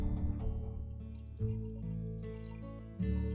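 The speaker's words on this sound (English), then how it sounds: "A few drips." Water dripping from a windmill pump after fresh leathers were fitted, a few quiet, close drips and trickles with faint ringing as the pipe slowly fills, no voices.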